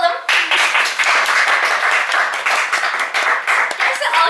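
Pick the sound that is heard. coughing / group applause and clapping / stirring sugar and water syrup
group applause and clapping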